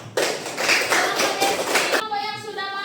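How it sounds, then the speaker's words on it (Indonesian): Classroom applause for a group of students who have just presented: a burst of many hands clapping for about two seconds, fairly close and steady, before it stops and a voice begins to speak. "Beri tepuk tangan buat"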